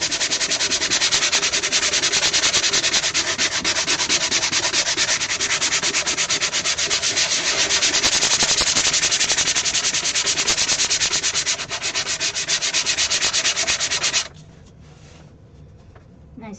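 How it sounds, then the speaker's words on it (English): A handheld sander working on wood, a loud, steady abrasive whir running continuously for about fourteen seconds before cutting off, leaving quieter background afterward. "Let's see how well it sands."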